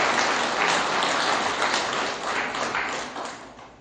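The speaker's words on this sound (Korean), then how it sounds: "박수 한번 쳐보세요." Audience at a lecture on the March 1st Movement and peaceful reunification breaks into applause, a short burst of many hands clapping loudly at first and thinning out after a few seconds.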